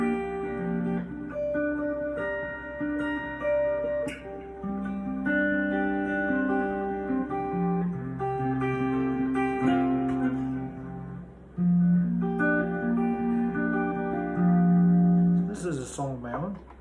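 Fingerpicked acoustic guitar plays an original song with a capo, individual plucked notes ringing out in a steady melodic pattern, close and clear, with no voice over it.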